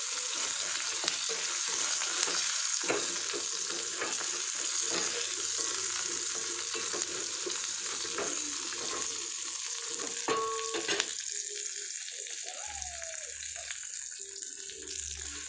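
Garlic, okra and drumstick pieces fry and sizzle steadily in a hot pan for sambar, with a spoon stirring and scraping through them in repeated strokes, the bubbling crackle continuous and close throughout.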